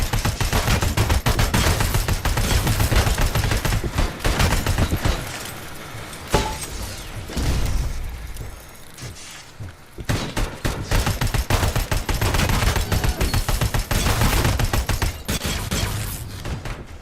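Gunfire in a RoboCop video game, dense rapid automatic bursts firing almost continuously, loud and close, with a short lull in the middle before the shooting resumes, no voices.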